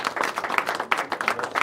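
A small group applauds a blind football team from Saint-Mandé meeting Mali, with quick, close, uneven hand claps overlapping in a lively burst.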